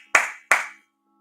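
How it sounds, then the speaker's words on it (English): A man clapping his hands twice, two sharp, close, evenly spaced claps, then silence. "you guys should applaud yourself just as much as I applaud myself"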